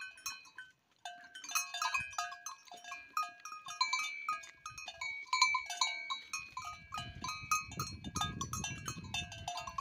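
Goats in the caatinga mill about with bells clinking and jangling in an irregular rhythm, and a low rustle of movement rises near the end.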